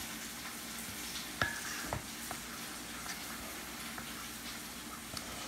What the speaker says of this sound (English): You hear the vegetables going in the background.